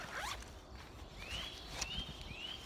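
A bag compartment zipper pulled in a few quick strokes, three or four short rasping zips close by and fairly quiet, with no talking.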